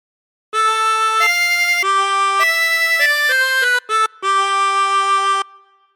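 A 16-hole tremolo harmonica plays a slow melodic phrase of God Defend New Zealand, its sustained reedy notes shimmering with tremolo, stepping between pitches with a brief gap near the end, alone and close.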